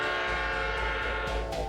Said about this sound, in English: No wonder these trains are so long.